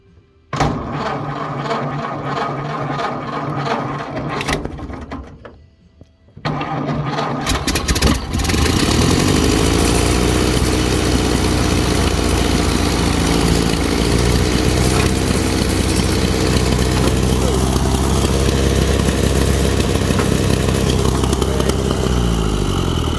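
A Ford Model A engine, off the road for 65 years and primed with starting fluid, cranks and catches, then settles into a loud, steady, close idle that runs for well over ten seconds without talk.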